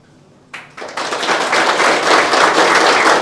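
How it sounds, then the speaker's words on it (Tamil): An audience bursts into hand clapping after a brief quiet moment, the applause swelling quickly into a dense, steady, close roar of many hands. "நீங்களே ஒரு தடவை கைத்தட்டி மகிழ்ந்து தெரிவித்துக் கொள்ளுங்கள்"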